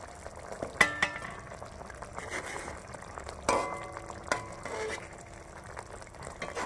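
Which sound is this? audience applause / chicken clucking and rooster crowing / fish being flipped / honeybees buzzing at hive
fish being flipped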